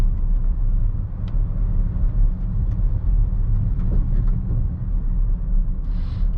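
A 2021 Chevrolet Traverse rolling slowly into a residential neighborhood, a low steady engine and road rumble heard from inside the cabin, with a few faint clicks and a brief higher hiss near the end.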